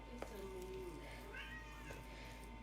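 A stray cat on a front porch meows a few times, close and fairly clear, over a steady low background hum.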